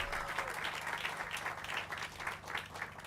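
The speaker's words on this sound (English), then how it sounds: "We'll give him another round of applause." Steady, moderately distant applause rolls from a crowd at an outdoor housing-authority groundbreaking ceremony, several seconds of continuous clapping with no voices over it.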